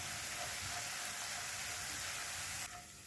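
Spice paste frying in a pan over a low gas flame for a paneer vegetarian dish: a steady, close sizzle and hiss that holds evenly, then drops quieter near the end, with no talking.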